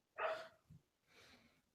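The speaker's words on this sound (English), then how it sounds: "Bark." A dog gives a sharp close bark followed by a softer, lower second sound, both brief and loud against a quiet room.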